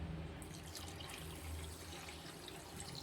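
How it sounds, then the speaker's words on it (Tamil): Water pours in a steady, close stream onto sugar in a pan, a continuous liquid rush that holds even throughout with no voices over it. "தண்ணி வந்து சீனி முங்குற அளவுக்கு ஊற்றிக்கிடுவோம்"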